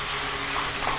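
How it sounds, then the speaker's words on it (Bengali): Chicken frying in a pan, a loud, dense sizzle close by that holds steady with faint stirring, alone without voices. "চিকেনটাকে ভালো করে ভেজে দিলাম।"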